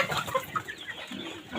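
Young chicks kept in a room cluck and peep in a quick, uneven run of soft calls, close by and fairly quiet, with no talking.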